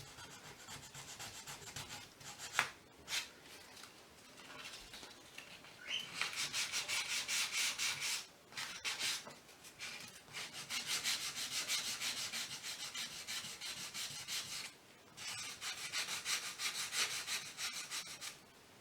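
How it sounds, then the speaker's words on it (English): Chalk-painted wooden furniture sanded by hand, heard as bursts of dry, scratchy rubbing strokes lasting a few seconds each, separated by short pauses, close and steady with no talking. "Just sand that right back down."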